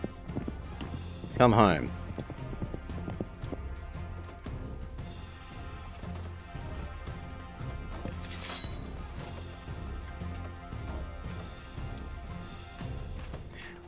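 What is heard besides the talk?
horses in the video game Citadelum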